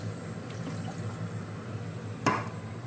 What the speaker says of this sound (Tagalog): Lagyan tayo tubig.